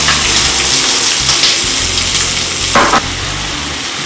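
Thinly sliced peeled potatoes frying in a pan, a loud steady sizzle running throughout with a short burst of louder spattering near the end and no talk.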